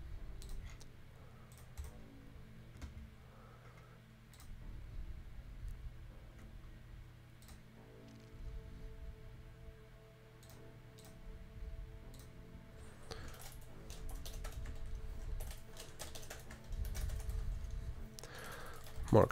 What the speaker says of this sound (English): We're gonna have to type all that again.